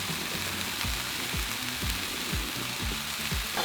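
Broccoli seasoned with salt, pepper and garlic powder sizzles steadily on a Blackstone griddle, a constant close frying hiss with faint clicks and scrapes underneath.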